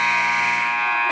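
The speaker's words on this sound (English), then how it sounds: "Hassoun, game clock at 2, fires it up at the buzzer" A loud, sustained basketball game buzzer blares for about a second to end regulation in a Grizzlies semifinal game, a steady harmonic electronic tone that fades slightly toward the end.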